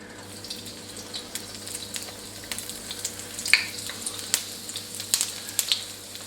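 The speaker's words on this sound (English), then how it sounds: "So we're going to put these prawn toasts into the oil, the sesame seed side down first." Prawn toasts laid sesame side down into hot oil give off a soft, steady fizz and crackle. A few sharper pops and clinks stand out near the middle and end, with no voices.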